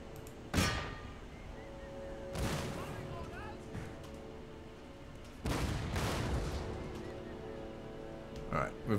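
Musket volleys in an Empire Total War battle boom in a few spaced, rumbling bursts, with faint background music underneath and someone talking at times.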